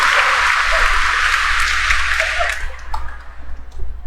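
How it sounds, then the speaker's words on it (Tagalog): A congregation applauding at a fiesta mass fills the space with dense, steady clapping that holds loud for a few seconds, then thins into scattered claps as it dies away. "palakpak kita mga igsoon"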